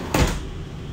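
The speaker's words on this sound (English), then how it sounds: "So I got a sliding glass door here that takes me into my kitchen and living room area." The sliding glass door of a 2022 Sierra 401FLX luxury destination travel trailer opens with a single short slide and thump, nearby and fairly soft. Steady background hum follows.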